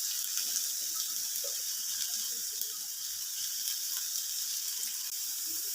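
Shredded cabbage sizzles and fries in a pan over a medium gas flame, a steady bright hiss with light crackles throughout, no talking.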